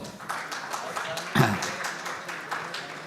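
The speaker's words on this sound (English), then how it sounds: "So big round of applause." Applause from a conference audience welcoming a banking CEO, a steady wash of clapping across the whole stretch, moderately loud, with one sharper burst near the middle.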